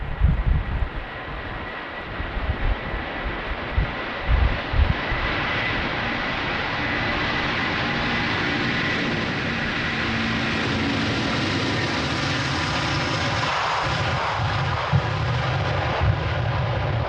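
A Delta Airbus A330-300, fifteen years old, takes off from runway 36L at Amsterdam Schiphol in windy weather, its jet engines a loud, sustained roar that swells and holds steady throughout with no talking.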